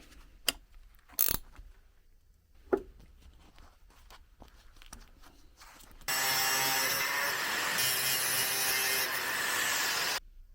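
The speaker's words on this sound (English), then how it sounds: "I'll just cut the excess off." Cutting the excess end off a solid threaded metal bar on a homemade pipe bender: a few sharp knocks and clicks, then a loud, steady, broadband cutting noise running for about four seconds before stopping abruptly.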